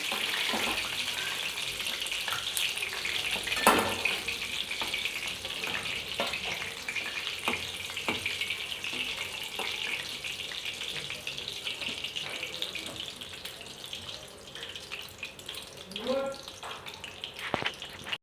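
Chicken pieces fry in hot oil on a gas stove with a steady, close sizzling hiss and scattered crackles and pops throughout.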